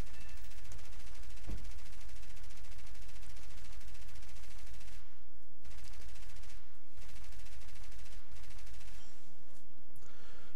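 Aircraft machine guns firing in a flight combat video game, a dense sustained rattle through most of the stretch with a few brief gaps, loud and close over a constant engine drone.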